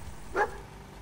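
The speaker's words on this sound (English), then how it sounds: "All right, so that dog found something." A single short dog bark sounds at middle distance in Fallout 4, over a low, steady game ambience.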